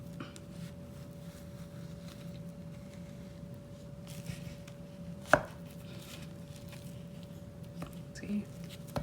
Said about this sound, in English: You can cut it in small thin slices if you want more.